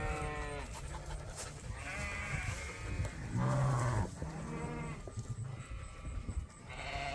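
A group of sheep in and around a farm barn bleat repeatedly, several overlapping calls near and moderately loud, one low drawn-out bleat standing out midway, with no talking.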